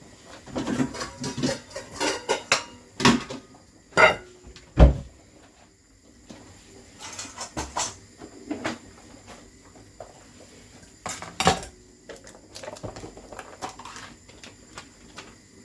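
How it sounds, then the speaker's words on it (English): Natural yoghurt and dried mint being mixed in a bowl: scattered clunks, knocks and clinks of bowl and spoon, some sharp and close, separated by quiet pauses, with no voices. "So I'm going to grab a bowl, I'm going to mix this up now"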